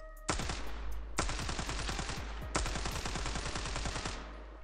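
Rapid automatic gunfire from an AKR rifle in the video game Standoff 2 rattles out in three long, loud bursts, each a fast string of sharp shots with brief pauses between.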